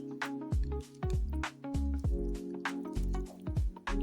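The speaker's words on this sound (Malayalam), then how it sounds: "ഈ തയ്യാറാക്കി വെച്ചിരിക്കുന്ന കോട്ടിങ്ങിലോട്ട് ഈ വേവിച്ച് വെച്ച ഉരുളക്കിഴങ്ങ് ചേർത്ത് നന്നായിട്ട് മിക്സ് ചെയ്തെടുക്കാം" Boiled potatoes squelch and slap as they are mixed into a wet batter coating for chilli potato, with about seven loud, close, wet squishes spaced roughly half a second apart and no talk.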